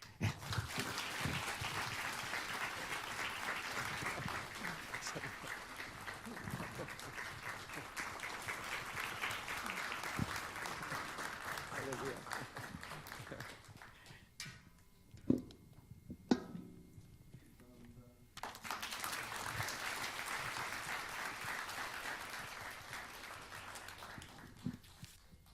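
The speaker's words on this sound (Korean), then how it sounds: "이런 마음으로 한번 뜨거운 박수 한번 올려주세요" A church congregation applauds warmly to welcome the pastor, a sustained, fairly distant wash of clapping that pauses briefly midway and then resumes.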